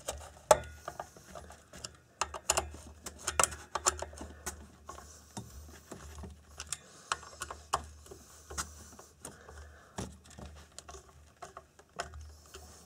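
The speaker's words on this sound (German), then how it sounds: "Jetzt werde ich den Trafo auch noch mal richtig festschrauben." Screws being driven into a transformer mount inside a DIGI35 lab power supply, a series of sharp metallic clicks and ratcheting ticks in irregular bursts, close and fairly quiet, with no talk.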